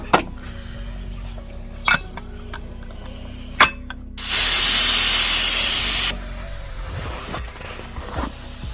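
A pressure cooker of mutton curry with brinjal and potato lets off a loud, steady rush of escaping steam for about two seconds, framed by a few sharp knocks and faint kitchen noise.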